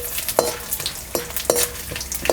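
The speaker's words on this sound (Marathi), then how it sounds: "त्रिफळा हे सुद्धा आपल्याला थोडंसं परतून घ्यायचं" Triphala spice frying in oil in a pan for homemade kala masala, a close crackling sizzle punctuated by a few rhythmic scraping strokes of a spatula stirring, with no voices.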